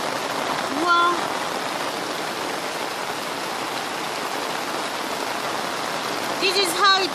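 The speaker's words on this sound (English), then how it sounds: "This is how it's raining in the village." Heavy rain pours steadily over a Kenyan village amid flooding, a dense, continuous hiss of water striking surfaces, with a couple of brief chirps or tones over the downpour.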